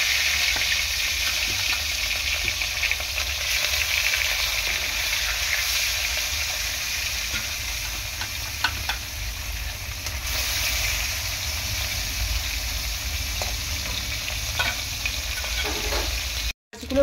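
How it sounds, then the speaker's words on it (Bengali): Spiced fish frying in a pan, a steady dense sizzle and crackle of hot oil that carries on evenly for over fifteen seconds, with faint occasional clinks and stirring, then cuts off abruptly at the end. "মাছগুলো ভালো করে ভেজে নিচ্ছি আমি।"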